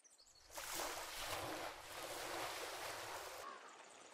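Ocean surf rolling onto a beach in the Pirate Island Mini Golf video game, a soft, steady wash that swells in after a moment and holds, faint and unbroken, with no voices.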